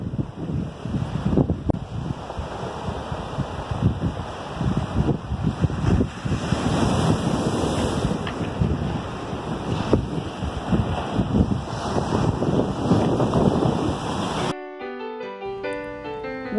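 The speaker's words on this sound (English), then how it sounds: "stop and hear the surf crashing on the shore" Steady roar of surf breaking on a stony beach on Cape Breton Island, Nova Scotia, with gusting wind buffeting the microphone throughout; the sound cuts off abruptly near the end.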